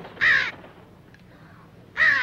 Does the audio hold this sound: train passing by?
no